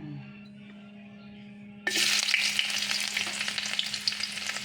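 After a quiet hum, softened boiled mung beans hit a hot pan about two seconds in, setting off a sudden loud sizzle that continues with stirring scrapes and crackles.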